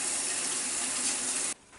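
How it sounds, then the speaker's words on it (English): A kitchen tap runs while hands are washed with soap, a steady, soft rush of water lasting about a second and a half before it cuts off abruptly. "I'm going to wash my hands again with soap."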